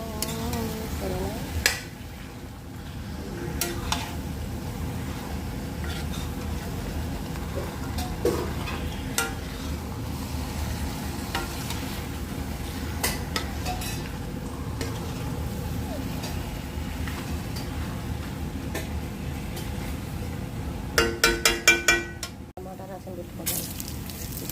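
Cumin, mustard seeds, fenugreek, chana dal, urad dal, dried red chillies and garlic sizzle in hot oil for a tempering, a steady frying hiss with occasional clinks of a spoon against the pan and a few sharp scrapes near the end.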